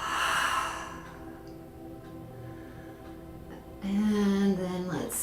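Deep exhale during yoga breathing, a close, breathy release of air at the start followed by quieter breathing and faint ticking, and a short voice at the end.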